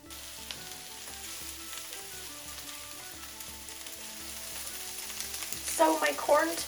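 Corned beef browning in a pan with green cabbage for a keto Irish hash, a low continuous sizzle with a few louder stirring scrapes near the end.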